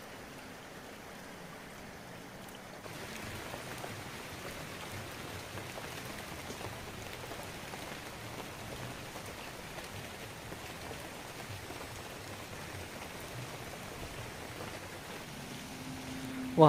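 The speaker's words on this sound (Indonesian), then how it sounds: "Hujan di luar." Steady rain falls outside a window in the village of Kampung Cibeureum, a dense, even hiss that grows slightly louder after the first few seconds and continues without pause, with no voices.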